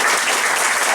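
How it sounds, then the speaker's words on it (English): Dense, loud audience applause fills a short moment at the relaunch event of the Virginia Climate Change Commission, a steady wash of many hands clapping at once. "Give a round of applause."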